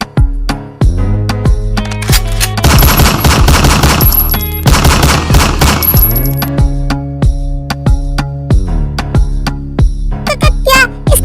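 Loud bursts of rapid machine-gun fire as a sound effect in a mafia love story, with repeated sharp single shots before and after the sustained volleys.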